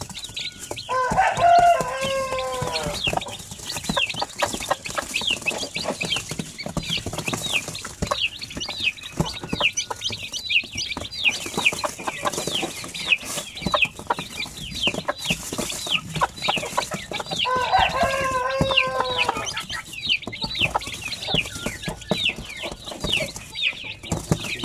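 Basilan native chickens cluck in a farmyard with steady, busy chatter throughout. Two louder, clearer calls stand out near the start and again later.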